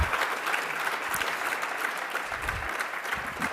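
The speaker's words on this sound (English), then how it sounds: "Let's give them a big round of applause." Sustained audience applause at a mayor's second-term address in DC, dense steady clapping from a large crowd filling the whole stretch at even loudness.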